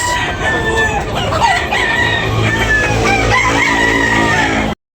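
A rooster crows loudly and close by at a poultry market, a long drawn-out call with other chickens clucking around it, then the sound cuts off abruptly.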